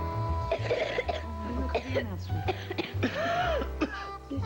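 Several coughs, close by, with talking and a low background hum mixed in.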